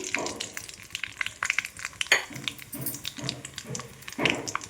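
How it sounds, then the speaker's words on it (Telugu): Cumin seeds, mustard seeds and dried red chilies spit and sizzle in hot oil, with irregular crackling pops and stirring scrapes close by, loud and continuous without speech. "ఆయిల్ వేడిన తర్వాత జీలకర్ర, ఆవాలు, ఎండుమిర్చి వేసుకోవాలి."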